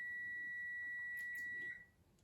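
A faint electronic alarm rings as a steady high-pitched continuous tone with a few soft clicks, then stops near the end.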